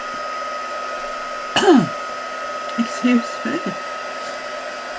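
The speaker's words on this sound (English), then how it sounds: "I'm just going to waft a heat gun over it just to make sure" A heat gun runs as a steady broadband hiss, drying stamped archival ink on a paper ephemera craft project; a person speaks briefly over the continuous blowing noise.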